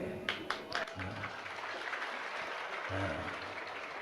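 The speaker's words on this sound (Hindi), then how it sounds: "और ये ताली बजाने का भी अर्थ मैं जानता हूँ।" A seated audience claps during a Hindi religious discourse, bursts of applause rising and fading in short waves over a steady hall murmur.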